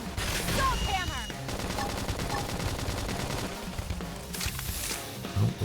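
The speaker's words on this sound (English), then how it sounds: "Topple them with gunfire." Rapid gunfire in the video game Xenoblade Chronicles X, a dense continuous fusillade of shots layered over game music and effects, with sharper bursts near the start and end.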